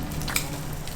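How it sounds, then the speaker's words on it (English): A5 wagyu steak cooking in its own rendered fat in a pan, a steady close crackling sizzle with a brief pop, no talking. "We're gonna cook it in its own fat."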